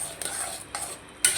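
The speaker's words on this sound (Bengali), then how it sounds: "এই যে দেখুন আমি মশলাটা কিছুক্ষণ কষায় নিচ্ছি" Spices stirred and frying in a pan with cumin powder, scraped with a utensil in a few short bursts over a steady hiss, near and alone with no talk.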